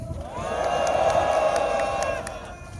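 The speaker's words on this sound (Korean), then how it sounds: "큰 박수로 모시겠습니다" Crowd at a rural farmers' protest rally against high-voltage transmission towers cheers and applauds to welcome a speaker, a swelling wash of voices and clapping that peaks midway and then fades.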